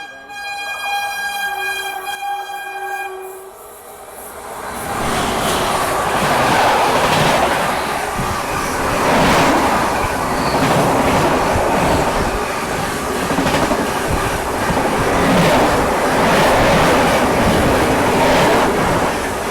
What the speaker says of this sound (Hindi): और ये देखो ये आ रही है न्यू तिनसुकिया